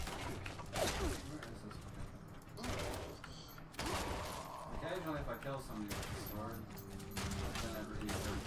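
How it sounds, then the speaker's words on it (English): Video game gunfire sounds in bursts of shots amid clanking and mechanical noises, with a voice talking through most of it. "I hear gunshots."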